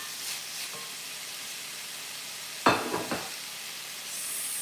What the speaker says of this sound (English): I added a little bit of olive oil to the skillet to fry the bacon